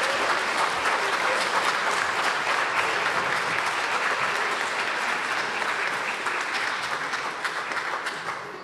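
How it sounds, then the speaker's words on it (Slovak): An audience gives sustained, dense applause for children after a pre-Christmas church performance featuring a youth choir, a loud wash of clapping from a full room that gradually tapers toward the end. "Poprosím ešte jeden veľký potlesk pre všetky deti."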